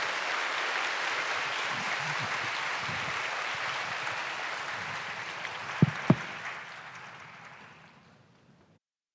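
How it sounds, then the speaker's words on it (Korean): A church congregation applauds newly baptized members with dense, sustained clapping that gradually thins and fades out, with a couple of sharp knocks near the end. "우리 축복의 박수, 환영의 박수 우리가 해주시겠습니다."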